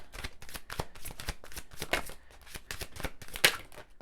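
A deck of tarot cards is shuffled by hand in a steady run of quick riffling flicks and soft slaps, close and fairly loud, with no talking.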